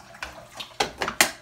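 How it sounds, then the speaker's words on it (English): Water is poured into a skillet of cream gravy in a few short splashing bursts, fairly quiet and close, with no talking. "I'm gonna put a little bit more water in just a second"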